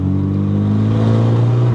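A Renault Mégane 3 RS Red Bull edition engine revs steadily and loudly up close, a continuous deep droning tone rising slightly in pitch, with no voices.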